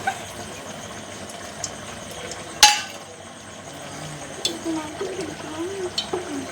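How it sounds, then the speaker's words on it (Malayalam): A pressure cooker lid is set in place with one sharp metallic clank, followed by softer kitchen clinks and handling noises, with quiet background sounds throughout. "നമുക്ക് കുക്കർ മൂടി വെക്കാം."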